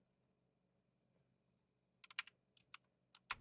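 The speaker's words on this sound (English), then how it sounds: "He's typing." Bursts of computer keyboard typing, loud clicky keystrokes clustered in quick runs near the end after a quiet stretch with low room hum.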